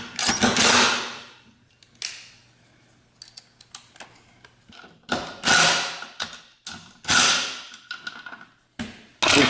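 Lag bolts are driven with a power driver to fit casters onto wooden shop seats, heard as several close, loud bursts of whirring and ratcheting with short clicks and knocks in the pauses between.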